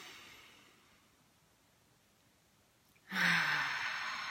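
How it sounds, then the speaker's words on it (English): A deep breath drawn in during a guided group breathing exercise at a salt ceremony: quiet, faint airflow for about three seconds, then a loud, close, breathy exhale that lasts to the end. "we're going to take a deep breath."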